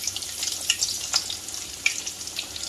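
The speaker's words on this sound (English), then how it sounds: "let's get the coconut shrimp out of the refrigerator and let's fry it" Coconut shrimp frying in hot oil, a steady close bubbling sizzle with occasional sharper pops and spatters throughout, no voices.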